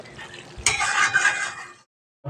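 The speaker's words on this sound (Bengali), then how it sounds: "হালকা করে একটু তলা দিয়ে নেড়ে দিচ্ছি" A spoon stirs pointed gourd curry gravy along the bottom of a pan in one brief scraping, sloshing pass lasting about a second, close and clear, then falls silent.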